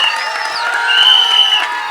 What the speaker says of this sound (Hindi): धनुष सर के लिए एक बार जोरदार तालियां।